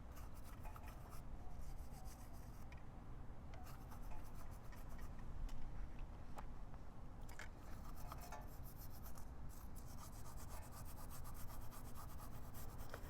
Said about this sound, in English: I'm going to use Joey's toothbrush. And I'm going to scrub in here a little bit and see if this works.